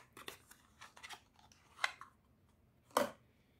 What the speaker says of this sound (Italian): Magari apriamo un attimo la confezione e vi faccio vedere.